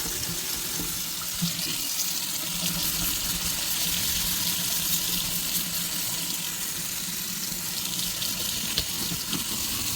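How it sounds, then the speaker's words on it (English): Water runs steadily from a tap into a kitchen sink while the basin and its walls are washed and scrubbed clean, a continuous close splashing hiss with no talking. "Clean all in here and around the cracks with the walls. And get our sink nice and clean."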